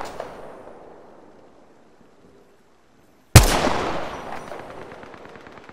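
Video game battle royale firefight: a sudden loud gunshot burst at midpoint with a long reverberant decay, following a quieter stretch of fading rumble.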